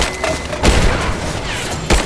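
Gunfire erupts in the Rise of the Tomb Raider video game, with loud, close bursts and booming thuds, a heavy blast near the start and another at the end.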